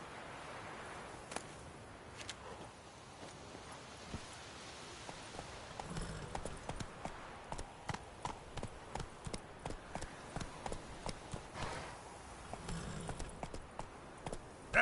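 Roach the horse from The Witcher 3 trots along, a steady run of clip-clopping hoofbeats coming in regular pulses over soft ambient background, growing clearer and more rhythmic after the first few seconds.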